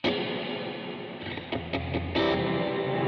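Bass guitar notes played through reverb with the pre-delay switched fully off, so a dense, distorted wash of sound follows each plucked note immediately, several notes in close succession.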